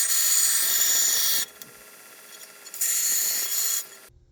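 A forged curved hunting knife blade is ground to profile on a grinder. A loud, steady rasping grind runs in two bursts, broken by a quieter gap, then stops.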